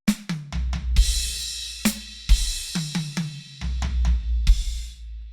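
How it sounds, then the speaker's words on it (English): Drum kit fill played as sixteenth notes across snare drum, high tom and floor tom, with sharp hits in quick bunches, pitched tom strikes ringing briefly and a few deep crashes and kicks, loud and close with no talking. "you could just play the snare drum, the high tom, and 2 on the floor tom"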